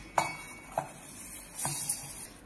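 Sugar goes into a mixer grinder jar with a few light clinks and taps of a spoon against the jar, then a brief soft granular rustle, close and quiet against faint background hiss.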